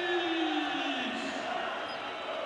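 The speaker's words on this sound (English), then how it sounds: "that just gets the home crowd a little bit excited" A home crowd at a Basketball Champions League quarter-final between Virtus Bologna and Nanterre 92 gives off a sustained, even roar of cheering that fills the arena throughout.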